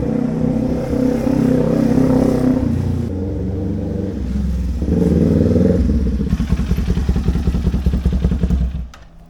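A Kawasaki Ninja 400 motorcycle engine revs loudly up close, its rough roar rising and falling, then settling into a rattling, pulsing idle before cutting off.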